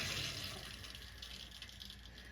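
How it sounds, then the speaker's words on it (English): Water runs steadily from a faucet after a shut-off valve cartridge replacement, a soft continuous hiss and splash that stays even throughout. "I am going to open these faucets."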